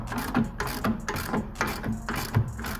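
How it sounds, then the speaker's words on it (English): A bush extractor tool presses a trailing arm bush out of the rear axle of a 2009–2016 Ford Fiesta. Close, repeated ratcheting clicks and metallic creaks come in a steady rhythm about every half second. "So the bush extractor tool, that's what we need."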